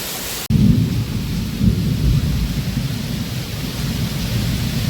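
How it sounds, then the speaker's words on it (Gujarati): A loud burst opens into heavy rain and rolling thunder, a dense roaring rumble that continues steadily to the end. "જો વરસાદ તો આવે છે પણ હારે અવાજ પણ વીજળી અને હરુડે છે."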